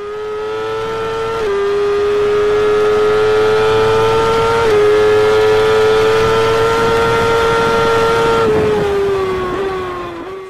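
Racing motorcycle on a track approaching turn 3, the Adelaide hairpin at Magny-Cours: a loud, steady, high engine whine holds near, stepping down in pitch a few times before falling off toward the end, with no voices.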